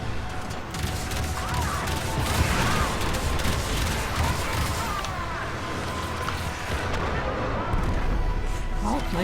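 A cruise ship reactor detonates in the video game Warframe: a dense, continuous roar of blasts and rumbling booms, loud and sustained throughout, with a voice briefly heard over it.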